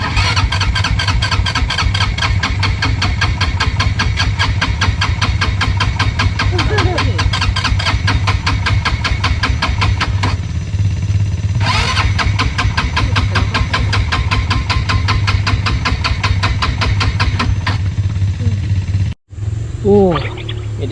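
An ATV engine stranded mid-trail and breaking down runs with a loud, rough, steady chugging for most of the stretch, then abruptly cuts out near the end, leaving brief quiet.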